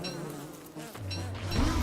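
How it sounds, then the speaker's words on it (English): Bees buzzing in the video game Don't Starve Together, a steady insect drone that holds for about two seconds and swells slightly louder toward the end, with no talk over it. "You aggroed the bees."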